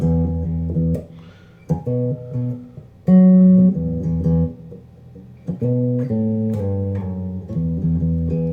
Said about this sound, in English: The bass line I'm going to play is going to sound something like this.